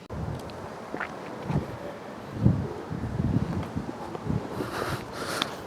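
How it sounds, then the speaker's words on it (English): Wind buffets a lavalier microphone outdoors on a residential street, producing irregular low rumbling gusts and thumps that rise and fall throughout, with faint rustling and no speech. "It's windy and the wind is facing me"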